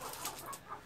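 A hen, a young pullet, gives faint soft clucks, a few brief low calls close by with no talk.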